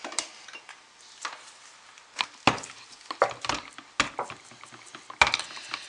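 Thick, heavily traced soap batter spooned and plopped into a mold, giving a run of irregular soft plops and light clacks of the spoon against the mold, close and moderately loud with quiet pauses between.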